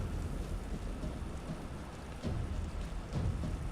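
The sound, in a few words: rain and thunder from a rain scroll in Divinity: Original Sin 2 video game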